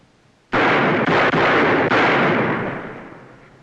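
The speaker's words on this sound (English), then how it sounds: "Where'd you learn to shoot so good?" Gunshots in a Western drama scene ring out as a loud, dense volley of overlapping blasts lasting about two seconds. A long booming echo follows and fades away, with no voices.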